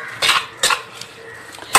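A spoon clinks and scrapes against a metal pot while spices and dried red chillies are stirred into oil for Champaran chicken handi, in a few sharp, close knocks spaced irregularly.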